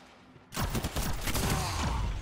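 Pulse rifle fire in a multiplayer shooter match with the Polaris Lance, a sudden loud onset of rapid repeated energy shots continuing steadily for about two seconds after a quiet start.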